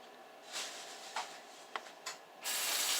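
An egg is cracked into banana crumb muffin batter: a few soft, close taps and cracks against a bowl, followed by a steady, faint rushing noise, with no talking.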